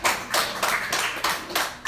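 A church congregation claps in a handful of quick, close bursts, each rising sharply and then trailing off, with no talk over it.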